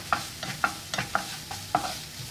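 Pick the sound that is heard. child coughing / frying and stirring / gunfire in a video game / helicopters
frying and stirring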